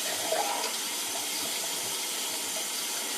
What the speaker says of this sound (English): I'm getting my washcloth, and I'm soaking it in hot water.